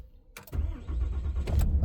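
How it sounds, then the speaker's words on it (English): A 2022 Ram 2500 Big Horn diesel pickup starts by push button: a short click, then the engine cranks and catches into a steady, loud idle rumble that holds near and close to the end. "Push button start."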